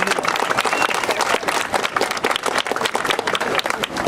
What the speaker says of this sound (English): So please, a massive round of applause for Adam.